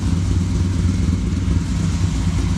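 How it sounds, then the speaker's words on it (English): 1955 Chevy Bel Air with a 502 big block V8 idling in drive, a steady deep rumble with a slightly uneven lope, close and constant with no talk over it. "I'm going to put it in drive and show you where the idle sits."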